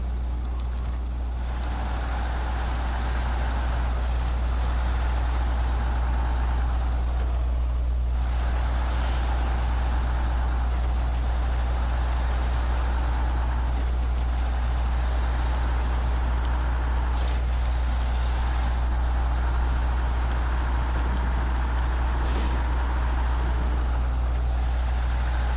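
Heavy truck engine in the SnowRunner video game, driving across ice without snow tires: a steady, loud low drone runs throughout, with a few sharp hissing bursts like air-brake releases.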